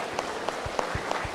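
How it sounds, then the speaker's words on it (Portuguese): Audience applause at an expo stage event for Ricardo of Brasil ao Cubo: fairly quiet, thin clapping with a few sharper claps and low thumps standing out. "Uma salva de palmas pro Ricardo da Brasil ao Cubo."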